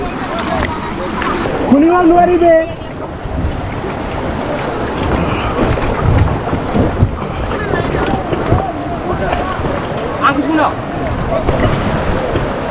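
A rafting boat rides a fast-flowing river at Bogamati, with steady rushing water and loud wind buffeting the microphone throughout while people talk.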